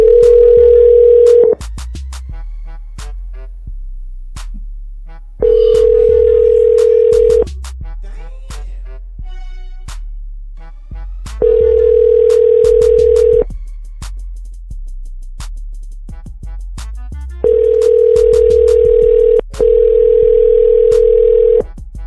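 Ringback tone from an outgoing telephone call: a steady electronic tone repeats in bursts of about two seconds with silent gaps, the last two rings running back to back, loud and close with no talk.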